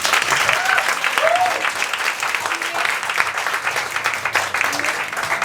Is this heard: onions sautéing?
no